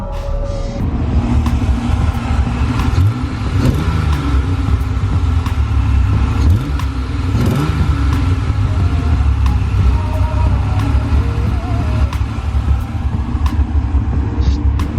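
A rebuilt wrecked car's engine idles at about 2,000 rpm with a loud, steady low rumble and slight fluctuations in pitch, close by, with no voices over it.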